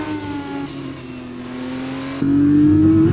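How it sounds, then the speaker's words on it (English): An F1 2021 video game race car engine drones steadily from inside the cockpit, muffled as if through a helmet and sustained, then jumps louder as it shifts and climbs in pitch. "you have a more realistic sound like what you would hear inside the cockpit"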